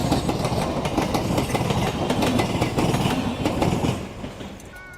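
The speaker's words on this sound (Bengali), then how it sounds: "ক্রস করব, ট্রেন যাচ্ছে।" A train rolls past at night close by, its wheels clattering loudly and steadily over the rails for several seconds before the noise starts to fade away.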